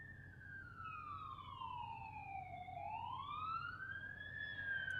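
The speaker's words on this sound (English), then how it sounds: "I hear sirens." A single emergency vehicle siren wails in a slow falling-then-rising sweep, faint and distant over a low background hum, heading to a two-vehicle traffic collision with one vehicle on fire.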